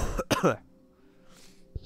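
A couple of sharp, harsh coughs up close, followed by quiet room noise and a faint rustle.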